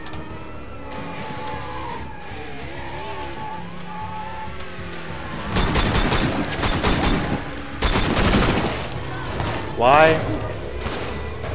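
Gunfire in the Sleeping Dogs video game comes in two dense bursts, with car and tire-skid sounds around them. A player talks over the game audio.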